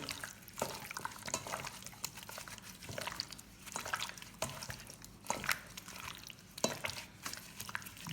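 Tandoori chicken wing marinade being stirred and mixed in a bowl, with wet, squelching, sloshing strokes repeating irregularly, close and fairly quiet, with no talking.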